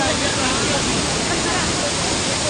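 A waterfall on the Okhreni hike just below Sundarijal roars in a steady, loud broadband rush that stays dense and unbroken throughout, with no other sound rising above it.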